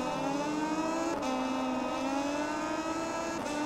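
AI-controlled MotoGP racing motorcycles in MotoGP 20 at Assen roar steadily, engine pitch rising and shifting as bikes run close behind, loud and continuous without talk.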